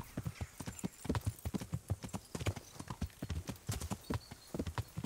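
Horse hooves clip-clopping at a brisk, steady trot while riding in a video game, clear and close with an even rhythm throughout.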